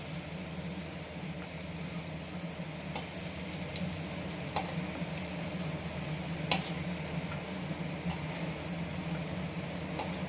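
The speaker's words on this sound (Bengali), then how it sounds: "পেঁয়াজ রসুন কাঁচা লঙ্কা ভাজাটা।" Onion, garlic and green chili frying in oil, a soft continuous sizzle with a low background hum and a few sharp clicks, no talk.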